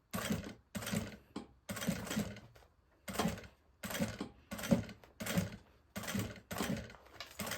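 A sewing machine slowly stitching a zipper onto a maternity bag, running in a series of short, separate bursts of stitching with brief pauses between, fairly quiet and close.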